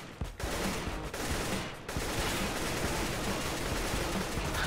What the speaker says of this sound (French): Oh, il m'a tiré une balle.